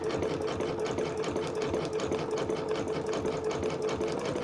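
A sewing machine runs steadily, stitching a zigzag edge on appliqué fabric with a dense, even, rapid mechanical chatter that holds close and loud throughout, with no talking.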